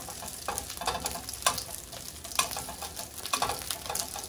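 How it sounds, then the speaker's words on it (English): Iberico chorizo sausage sizzles as it browns in a pan, a continuous crackling fry with repeated scraping stirs and small utensil knocks at irregular intervals. "See, it's already browning nicely."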